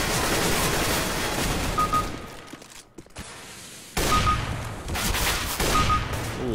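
Rifle fire in the video game CS:GO, with loud bursts of gunshots that cut to a brief silence midway and then resume in sharp volleys.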